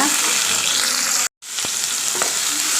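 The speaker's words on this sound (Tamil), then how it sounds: "வெங்காயத்துலேயே இதையும் சேர்த்து நல்லா வதக்கலாங்க" Onion and dried chili sautéing in a pan, a loud, continuous close sizzle broken by a brief dead gap and a couple of soft utensil taps, with no talk.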